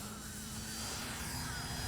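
A Dynam DHC Beaver V2 radio-controlled model airplane flies a low, extended touch-and-go with flaps up, its electric motor and propeller giving a steady, continuous drone.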